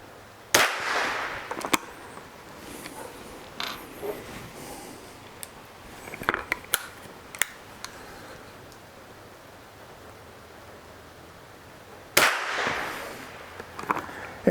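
Sharp rifle reports ring out from a 109-year-old Stevens Marksman rifle, several spaced cracks across the stretch with quieter clicks and handling noises between them, fairly close.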